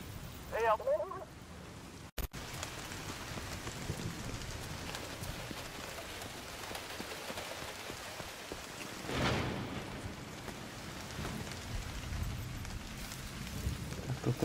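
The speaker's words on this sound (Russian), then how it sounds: "Уа, какая погода, дождь пошел" Steady rain falls across the open streets of The Division 2, a broad hiss with gusty wind running through the whole stretch, and a voice briefly talks over it near the start.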